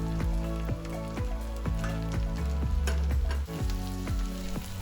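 Lemongrass, garlic and red chillies sizzling with golden shallots in a pan for a Vietnamese lemongrass chicken stir fry, with a steady frying hiss and a series of regular scraping clacks as the mix is stirred, close and clear.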